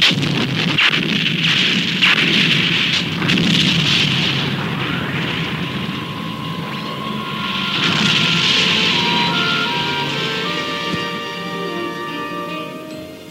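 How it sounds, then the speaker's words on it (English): Main guns of the space battleship Argo firing at a battle satellite: heavy booming blasts and rumbling explosions build and fade over several seconds, followed by a rising electronic whine with beeping tones, loud and continuous with no talk. "Fire main guns. Target battle satellite."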